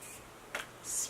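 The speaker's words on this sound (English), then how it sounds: "Spray my face a little bit." A face setting spray is spritzed during a makeup application, two brief airy hisses close to the mic, the second slightly longer, over a quiet room.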